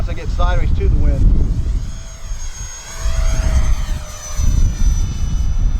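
Loud, whining turbine of an FF Viper 50 model jet at about half throttle, flying a maiden flight in strong wind, with the pitch rising and falling as the jet passes, over heavy wind rumble.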